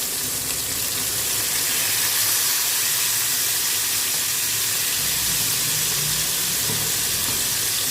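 Pork stir-frying with black pepper in a hot pan as Maggi seasoning sauce goes in, giving a steady, close, loud sizzle and hiss throughout with no talking.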